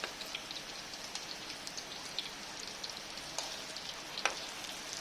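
Potatoes fry in oil for a mustard fish curry, giving a steady, soft crackling sizzle with scattered sharper pops and no talking.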